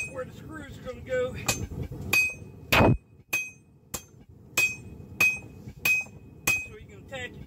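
Sharp, ringing metallic hammer blows on half-inch steel rebar being flattened, about a dozen strikes at an uneven steady pace, close and alone with clear ringing between hits.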